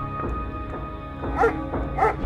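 A dog in the video game Enigmatis The Ghost of Maple Creek gives two or three sharp, close barks over a low background hum, spaced about half a second apart.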